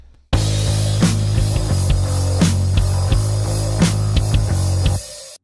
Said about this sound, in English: So the drums and bass together sound like this.